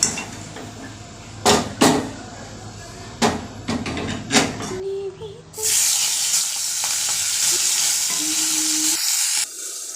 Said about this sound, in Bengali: এখন মাছ ভাজি করবো